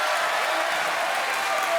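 Studio audience at the Maison de la Radio applauding during a French television show, a short burst of steady, even clapping from many hands.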